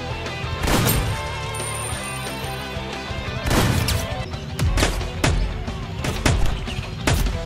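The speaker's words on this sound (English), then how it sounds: "Gunshots from various weapons sound authentic." Gunfire from assorted weapons in a squirrel-themed video game crackles out in several sharp bursts and single cracks over a layer of game music, loud and close.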